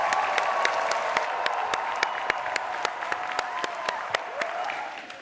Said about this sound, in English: Everyone give a big round of applause for our guests